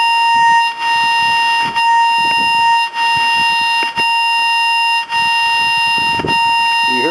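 A DFNA wire locator traces a buried invisible fence wire, giving a steady, loud electronic tone that runs continuously with brief regular dips about once a second, with no talk over it.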